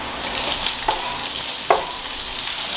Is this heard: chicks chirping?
no